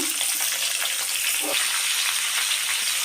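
Chopped star fruit being stirred as it fries in a pan for a sweet-sour-spicy pickle, steady loud sizzling with occasional scraping stir noises, close and continuous.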